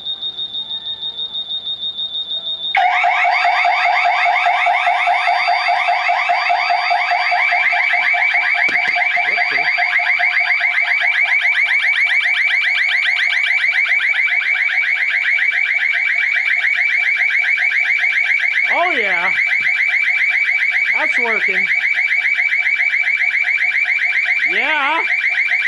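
A garage alarm siren wired to a speaker blares a loud, continuous electronic wail after a short high beep tone, steady for over twenty seconds, with a few brief chirps layered on top.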